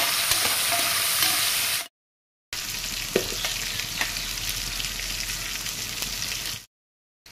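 Cut potato sizzles in hot oil in a pan while being prepared for a mustard fish dish, a steady crackling fry broken by two short silent gaps.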